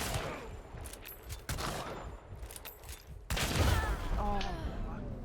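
Rapid gunshots sound in close-quarters hip-firing in the video game Hunt: Showdown, arriving in sharp clustered bursts over shifting background noise with faint voice traces.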